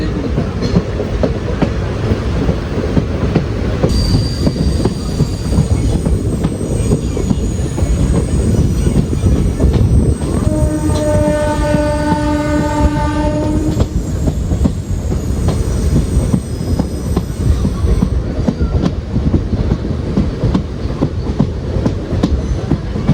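A passenger train runs along the track past New Aryankavu station in the hills, a loud, constant rumble of wheels and coaches with a sustained metallic squeal rising in the middle, no talk.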